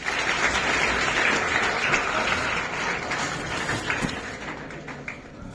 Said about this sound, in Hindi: तो गुरुजनों के लिए ताली बजाएं